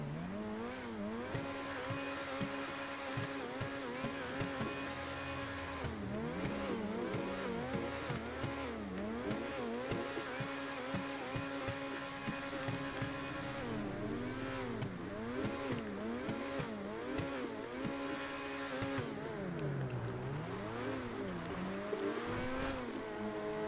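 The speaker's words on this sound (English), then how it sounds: "V8 engine. Sounds beautiful. Great engine sound." A V8 car engine in the video game GTA Online revs repeatedly, its pitch climbing and falling in smooth sweeps, loud and continuous with a throaty rumble throughout.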